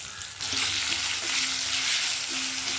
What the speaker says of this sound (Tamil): பக்குவத்தில் வெங்காயத்தை வதக்கிக்கலாங்க